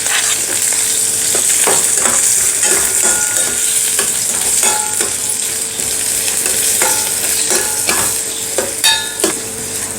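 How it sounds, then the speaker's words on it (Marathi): Onion and green chili frying in a pan for foxtail millet pulao, a loud continuous sizzle with scraping stirring strokes and clinks of a spatula against the pan. "यामध्ये कांदा घालायचा कांदा आपल्याला थोडासा सुरुवातीला भाजून घ्यायचा आहे"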